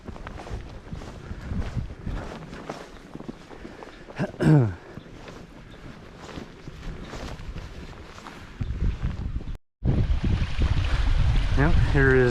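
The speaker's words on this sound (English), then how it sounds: "Now, here is Lower Post Oak Falls, flowing nicely." Lower Post Oak Falls, a waterfall pouring over icy granite hung with icicles in the frozen Wichita Mountains, gives a steady broadband rush close by, with a brief handling thump and a short dropout near the end before the roar resumes.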